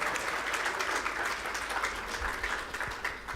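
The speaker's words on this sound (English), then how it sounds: "let's give him a round of applause" Audience applause at a fireside chat on humanities and STEM, a steady wash of clapping held at moderate level throughout, somewhat distant.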